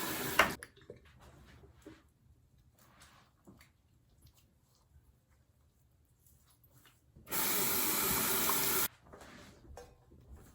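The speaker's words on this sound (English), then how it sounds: "Always make sure you wash your hands before you touch your face." Tap water running in a sink for hand washing, a brief steady rush of a couple of seconds after quiet rustling and handling sounds, with no talking.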